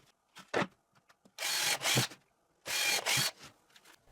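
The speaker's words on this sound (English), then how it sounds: "I drill guide holes in the front piece." A power drill bores guide holes through a plywood fence piece, two loud whirring bursts of about a second each, separated by faint clicks and handling noises.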